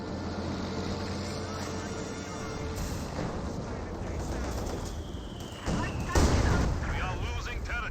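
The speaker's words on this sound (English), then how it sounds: "Katusha barrage gets some great damage there onto the artillery officer" A Katyusha rocket barrage in Company of Heroes 2 rumbles and booms as a dense series of launches and impacts, with a whooshing streak and a louder blast near the end, under ongoing commentary.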